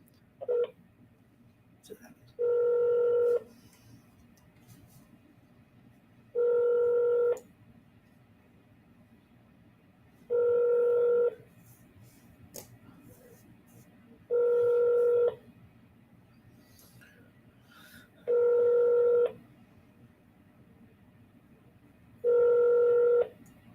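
Ringback tones sound in a repeating pattern over a phone line, seven evenly spaced pulses of roughly a second each, fairly quiet, with faint background hiss between them.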